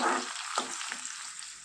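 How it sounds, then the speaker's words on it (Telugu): Onion pieces fry in a pan for an egg curry with ridge gourd, a soft steady sizzle with a brief stirring scrape partway through, close and fairly quiet with no talk. "ఈ ఉల్లిపాయ ముక్కలు కూడా బాగా వేయించుకోవాలి."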